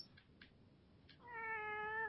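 A house cat gives a single rising, drawn-out meow close to the microphone after a few faint clicks, loud against a quiet room.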